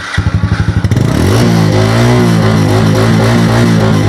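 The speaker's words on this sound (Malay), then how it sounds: "Jom kita dengar bunyi enjin dia." A second-hand Yamaha Lagenda motorcycle engine starts with a few rhythmic cranking pulses, then settles into a steady, loud close-up idle with a slight rev swell.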